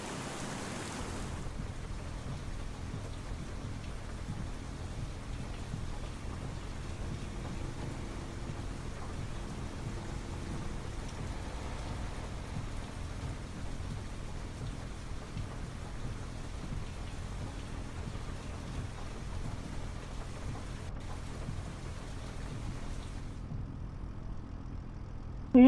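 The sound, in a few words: rain and thunder in video game Farming Simulator 25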